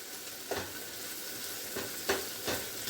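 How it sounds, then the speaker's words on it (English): A steady, soft sizzle of cabbage frying in a pan, with a few light stirring scrapes breaking through now and then. "I'm cooking it in this frying pan"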